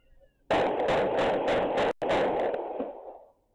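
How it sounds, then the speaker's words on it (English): A loud, rapid burst of gunshots on a Durham street, captured by a surveillance camera, crackles continuously for about three seconds, briefly cut off, then trailing away, distant with a harsh, distorted quality. "The gunfire doesn't stop there."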